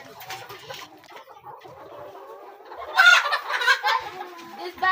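Hens cluck and chatter near the microphone while feeding, soft and scattered at first, then a louder flurry of squawks and clucks toward the end.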